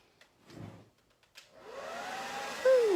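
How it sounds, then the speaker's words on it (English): A hair dryer, used on alcohol inks, switches on after a few soft clicks and blows with a steady whooshing hum, close by, rising slightly in pitch near the end. "Let's take our hairdryer and move this around just a little."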